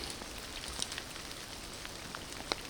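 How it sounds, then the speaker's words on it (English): Rain falls steadily on a muddy boardwalk section of the Overland Track, a soft continuous patter with a few sharper drips nearby, heard alone and at a fairly quiet level. "In the rain, it's coming down."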